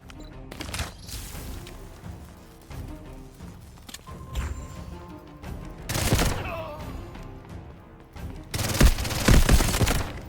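Video game gunfight with a G18 pistol: rapid bursts of close automatic fire in several volleys, the heaviest toward the end, over busy in-game background noise.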